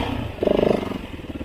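A KTM 690 motorcycle's single-cylinder engine thumps under riding load, a close, pulsing rumble that rises briefly in a throaty surge before settling back into a steady beat.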